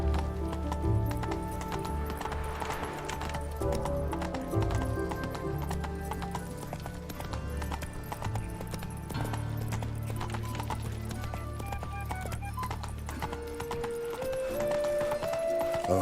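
Horse hooves clip-clop in Witcher 3, a steady galloping rhythm mixed with an occasional whinny, running continuously under game music.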